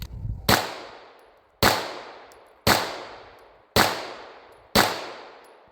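A Bul Armory pistol fires five loud shots of 124 grain Sellier & Bellot jacketed hollow point, each a sharp crack with a ringing decay, spaced roughly a second apart.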